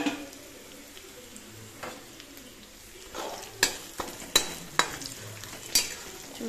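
Mango pulihora frying in a pan with stirring: a steady sizzle runs throughout, punctuated by several sharp clinks and scrapes of a spoon against the pan in the second half, close and clear with no talk.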